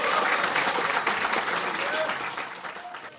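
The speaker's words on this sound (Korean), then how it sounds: "먼저 크게 박수 한번 치고 시작할게요." Lawmakers at a Democratic Party caucus meeting give loud, dense applause that holds strongly, then slowly tapers off, with voices mixed in the crowd.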